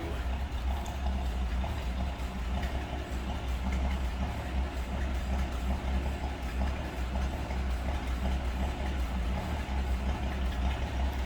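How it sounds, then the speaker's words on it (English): A 1965 Ford Mustang Fastback 2+2 with a 200 cubic inch inline six idles steadily, a low even rumble heard from behind the car, continuous and moderately loud with no talk over it. "Get an idea how it sounds. Again, 200 cubic inch inline six."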